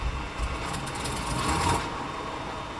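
Engine 1's starter on a Dornier Do J Wal flying boat in Microsoft Flight Simulator grinds in a short, rapid clattering whir over a constant cabin hum. It swells briefly and then falls away without the engine firing.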